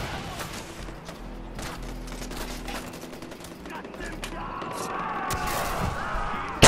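RPG rockets and explosions in the video game Far Cry 4, a dense, continuous roar of gunfire and blasts that swells louder toward the end with a sharp final burst.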